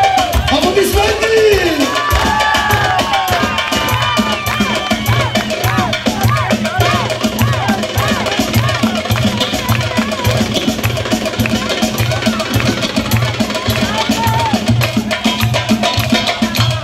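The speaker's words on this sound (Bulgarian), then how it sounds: "Аплодисменти!" Crowd noise at a kyuchek dance competition in Dolni Lukovit, with steady cheering and hubbub over loud rhythmic drumming and music throughout, voices shouting within the din.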